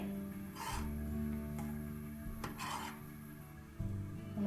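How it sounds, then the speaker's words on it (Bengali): Milk brought to a boil in a pot is stirred after vinegar is added to split it for chana, giving soft scraping and rubbing of a spoon against the pot over a steady low rumble of heat, with no voices. "ভিনেগারটা দিয়ে দুধটাকে হালকা করে নাড়তে হবে"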